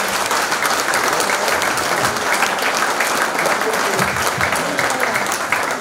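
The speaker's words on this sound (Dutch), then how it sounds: "Dames en heren, applaus!" Loud, sustained applause from a Dutch audience at a gathering honouring a speed skater, a dense, unbroken roar of many hands clapping at once with a faint murmur of voices beneath.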